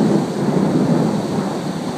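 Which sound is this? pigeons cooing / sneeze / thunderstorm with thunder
thunderstorm with thunder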